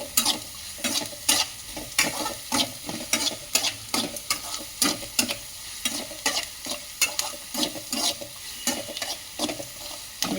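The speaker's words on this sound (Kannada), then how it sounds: "ಉಪ್ಪು ಹಾಕಿ ಮತ್ತೆ ಎಲ್ಲವನ್ನು ಮಿಶ್ರಣ ಮಾಡಬೇಕು" Avalakki (flattened rice) mixture with salt being stirred in a pan, a steady run of rhythmic scraping strokes over a light sizzle, close and clear with no talking.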